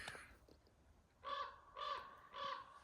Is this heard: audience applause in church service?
no